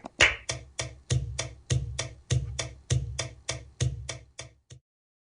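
A cajon beaten in a steady, even flamenco compás rhythm, about a dozen sharp, close hits with a deep thump under each, no voices.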